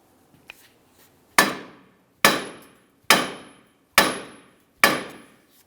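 Hammer striking the steering knuckle on a 2006-2012 Ford Fusion front end to free the lower ball joint: five loud, ringing metal blows at a steady rhythm, each decaying quickly, close up after a few light taps.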